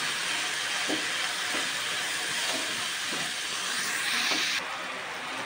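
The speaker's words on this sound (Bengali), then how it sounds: "এবার এটাকে আমি একটু ভেজে নেব।" Crabs frying in oil with salt and turmeric, a constant loud hiss of sizzling with a few soft knocks from stirring, close and alone.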